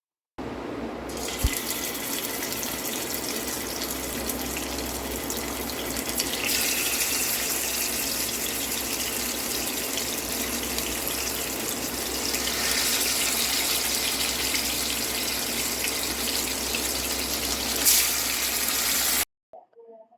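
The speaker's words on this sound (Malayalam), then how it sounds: "ഇതിലേക്ക് നമുക്ക് മാഗ്നേറ്റ് ചെയ്ത് വെച്ചേക്കുന്ന ഫിഷ് ഇട്ട് കൊടുക്കാം." Marinated karimeen fish frying in hot coconut oil in a pan for Kerala fish molly, a steady loud hiss and sizzle running continuously for about nineteen seconds before cutting off, with no talking.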